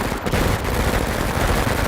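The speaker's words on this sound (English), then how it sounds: "these SMGs are so good at this range" Submachine guns rattle off in a video game, a dense, continuous spray of loud rapid gunfire that fills the whole moment without any talking.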